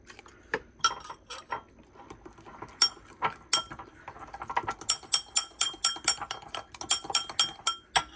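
Spoon clinking and scraping against a bowl while stirring sweet potato honeybun cake batter with milk, irregular close taps that quicken into a steady rhythmic clatter toward the end.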